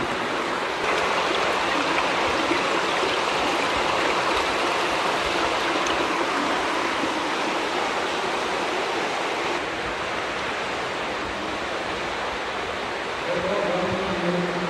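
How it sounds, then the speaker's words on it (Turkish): Steady, loud rush of water flowing through the rock-cut Titus Tunnel in Samandağ, Hatay, a continuous broadband roar with no pauses and faint voices near the end. "Tünelin içinden gelen bir su."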